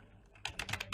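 Quick bursts of typing on a computer keyboard, several close keystrokes clustered in the second half after a near-silent start, with no voice.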